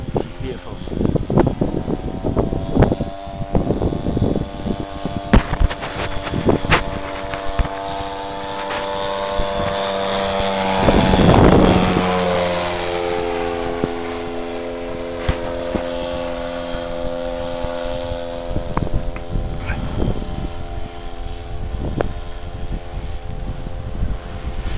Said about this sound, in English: That sounds smooth, that engine now though, eh?